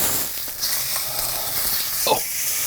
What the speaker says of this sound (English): You can hear the sizzle, sizzle, sizzle, sizzle, locking in those juices.